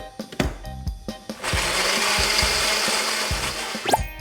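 A kitchen blender whirring through protein powder and almond milk for healthy ice cream, starting with a few short pulses then settling into a steady, moderately loud hum.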